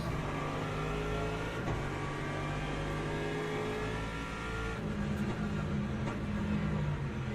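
Hypercars race in a video game, their engines revving and roaring steadily with shifting pitch as several cars jostle together, loud and continuous without speech.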